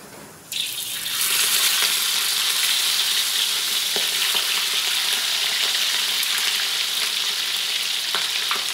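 Tuna goes into hot oil and a loud, dense sizzle bursts up and holds steady as it fries close by, with a few faint clicks under the constant crackle and no talking.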